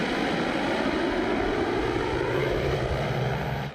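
Ukrainian Furia reconnaissance drone in flight, a steady, loud propeller-engine drone holding an even tone throughout with no voices, easing off slightly at the very end.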